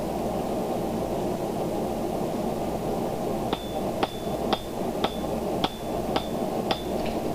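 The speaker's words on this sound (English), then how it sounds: "So a few more hammer strokes and I'll get the desired shape that I'm after." Hammer blows on a steel rosette, struck guided but loose to keep the metal from folding, land as about eight sharp, evenly spaced ringing strikes over a steady low rumble of background noise.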